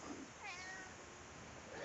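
A cat meows once, softly and a bit drawn out, against a steady background hiss.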